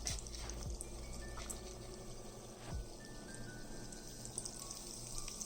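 A mozzarella stick fries in light olive oil in a pot, giving a steady, faint, close sizzle and bubbling crackle that continues throughout with a few small pops and no voice over it.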